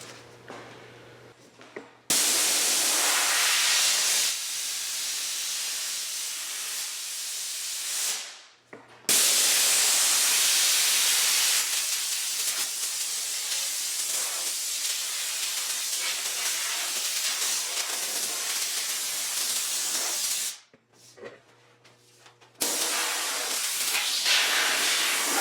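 A spray gun lays Summit brand DTM epoxy primer onto 1968 Mustang body panels, giving a loud, close, continuous hiss in long bursts broken by a few short pauses.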